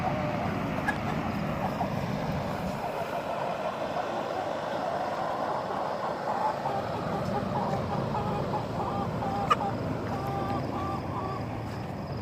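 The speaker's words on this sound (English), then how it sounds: "Those are some big fat chickens" Chickens cluck softly amid a steady outdoor rumble, with occasional faint calls scattered across the background.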